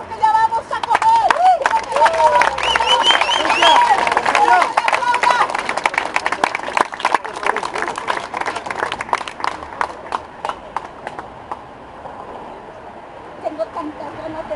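A church congregation applauds at a posada service in Tijuana, with dense, steady clapping that thins out toward the end, mixed with a speaker's voice early on.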